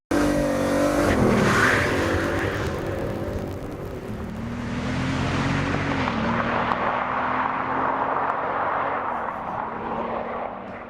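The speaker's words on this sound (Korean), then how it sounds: "주행 엔진 소리입니다" A Koenigsegg Agera RS supercar engine roars loudly as the car speeds past, its pitch shifting through gear changes before fading into rushing wind and road noise.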